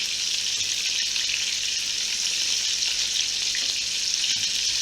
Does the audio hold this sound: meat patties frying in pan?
yes